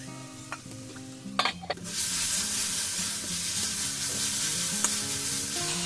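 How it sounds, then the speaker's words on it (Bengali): Spice masala of cumin powder and salt sizzles hard in hot oil, opening with a few clinks and stirring scrapes before a loud, continuous frying hiss takes over close by, with no talking. "যতক্ষণ না তেল ছাড়ছে এটা ভালো করে কষে নিতে হবে।"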